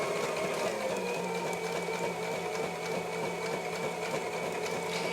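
A sewing machine runs steadily, stitching around a circle shaker card made with sticker numbers. The whir is close and continuous, with no pauses and no talk.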